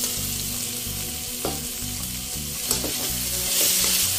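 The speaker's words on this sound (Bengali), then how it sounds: "একটু নাড়াচাড়া করে নিলাম।" Mutton liver and fried potatoes sizzle steadily in hot oil as a spoon stirs through them, giving a few clinks and scrapes against the pan.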